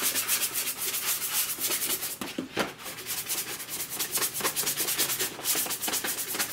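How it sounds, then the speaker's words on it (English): Steady, gritty scraping of a sanding sponge rubbed back and forth over a Star Wars Sandtrooper helmet in quick repeated strokes, close and continuous, with a brief pause near the middle. "I'm going to take my my sanding sponge here, and we're going to start working it up."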